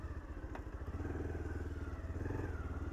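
A motorcycle engine thrums with a steady, rapid low pulsing as the bike is ridden along a rough road, fairly close, with an occasional light clatter.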